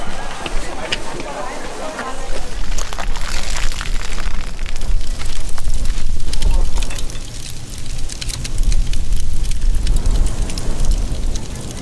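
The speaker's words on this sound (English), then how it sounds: "which is going to be a big bonfire of all the offerings" A big bonfire of burnt offerings on Christmas Island roars and crackles with dense, sharp snaps over a loud, continuous rush of flame.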